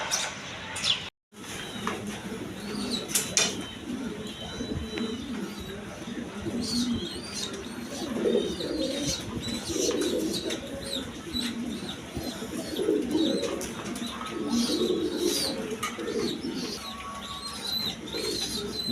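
A pair of domestic pigeons kept with their two chicks coos in soft, repeated low rolling phrases, with scattered chirps and a brief silent gap near the start; the cooing carries on steadily at moderate volume throughout.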